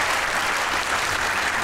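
A studio audience at a comedy talk show breaks into dense, loud, sustained applause, a continuous wash of clapping that fills the brief moment.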